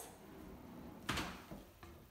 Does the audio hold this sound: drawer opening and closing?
yes